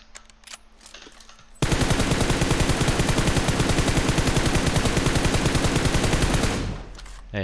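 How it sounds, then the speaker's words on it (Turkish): Automatic gunfire in the shooter game PUBG Mobile on the Erangel map, a loud, close, sustained rapid burst lasting several seconds that cuts in abruptly and tapers off at the end, with no talk. "Hadi bir daha sık"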